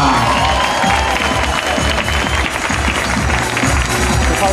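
A crowd at a Michael Jackson tribute show greets a performer with loud, sustained applause and cheering. The clapping is dense and close and continues without a break.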